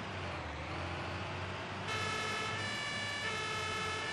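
Emergency vehicle siren from the Notruf 112 video game, a steady wailing tone that shifts to a higher pitch partway through, quiet and continuous with no talk.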